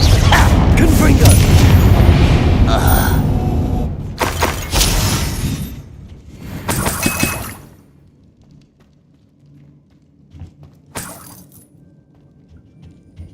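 A Confringo fire blast from Hogwarts Legacy erupts as a heavy, crackling boom with shattering debris, rolling for several seconds before dying away to near silence and a last faint thump.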